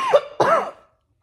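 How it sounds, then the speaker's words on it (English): Two quick, close coughs, one right after the other, then silence. "Oh, I've been needing that cough all day."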